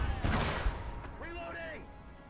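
Gunfire in the World War II shooter Call to Arms Ostfront: a few sharp cracks and a rumbling burst early on, followed by a brief tonal game sound, with a voice speaking under the action.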